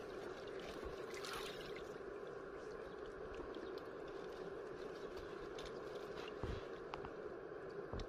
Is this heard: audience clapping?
no